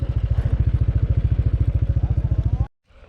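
A motorcycle moves down a steep path near Bisibis Falls in Mauban, Quezon. Its engine thumps in a loud, rapid, even rhythm for almost three seconds, then cuts off sharply, leaving quiet background.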